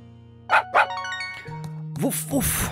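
A dog in Story of Seasons: Pioneers of Olive Town gives two short, clear barks in quick succession over soft game music, followed by a voice imitating barking.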